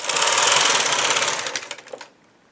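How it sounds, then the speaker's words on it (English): Yarn runs through a knitting machine as the carriage makes a loud, steady mechanical rattle for about two seconds. It then thins into a few clicks and stops, with no talking. "that's the only special thing I've had to do to knit this yarn on this machine"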